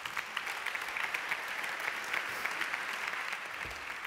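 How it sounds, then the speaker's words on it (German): An audience at an environmental talk event in 2019 claps steadily for several seconds, the sound moderately distant and even, with individual claps audible and no speech. "Einen großen Applaus"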